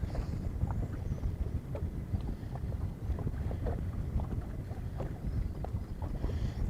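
Wind gusting over a lake around a fishing boat during summer walleye trolling, a loud steady rumble of microphone buffeting with faint splashing, no talk.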